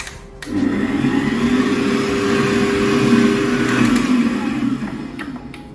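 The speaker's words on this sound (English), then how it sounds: "I'm just going to close the mixer. So just beat it on low speed so that all the all-purpose flour doesn't fly" A stand mixer beats dough for a Nutella babka at low speed, a steady whirring motor hum with a faint rhythmic churn, close and continuous after a short start, with no talk over it.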